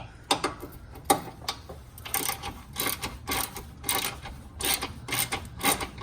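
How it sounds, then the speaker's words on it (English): Ratcheting socket wrench loosening snug oil pan brace bolts on a Fiat 500 Abarth, close and fairly loud, its sharp clicks coming in quick repeated bursts of varying length with no talk. "I just use a socket wrench to get them out instead of an electric impact"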